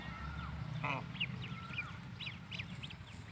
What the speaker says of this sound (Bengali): প্রাকৃতির মাঝে রাজহাঁসের বাচ্চা।